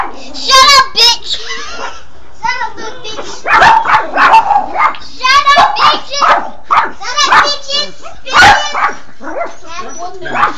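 Several dogs bark and yip in rapid, uneven bursts, loud and close, mixed with a voice talking over them.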